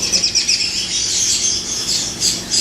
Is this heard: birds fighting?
yes